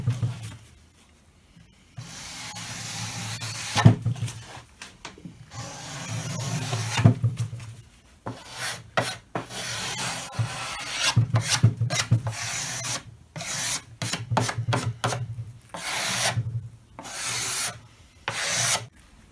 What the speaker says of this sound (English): we're just going to take a cabinet scraper and just